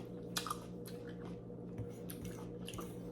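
Wet, squishy chewing of a fresh, juicy, crisp peach, close to the mic, with a few soft bites and juicy smacks over a steady low background hum, no speech.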